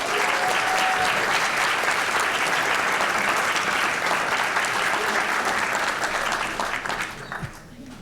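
Sustained applause from an audience at a school board of education meeting, honoring a student's regional choir award; dense steady clapping fills the room for about seven seconds, then thins out and fades near the end.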